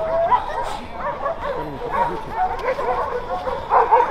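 A young dog, about a year and a half old, yips and barks close by in short bursts, mixed with whimpers, while people talk over it.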